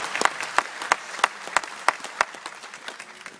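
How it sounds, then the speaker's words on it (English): Scattered hand claps ring out from a small audience at a citizenship ceremony, sparse and uneven, fading toward the end. "your presence here today deserves a big round of applause from those who have accompanied you"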